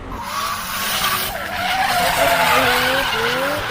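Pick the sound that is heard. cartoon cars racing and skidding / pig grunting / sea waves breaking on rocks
cartoon cars racing and skidding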